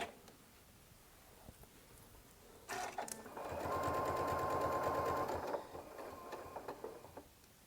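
A sewing machine stitches a fabric lining piece in a short, quiet burst of rapid mechanical clatter lasting roughly two seconds, with soft handling noises before and after.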